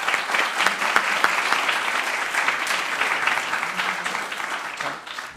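An audience at an AI research summit applauds contributors, a dense, steady burst of clapping that holds evenly for several seconds before tapering off at the end.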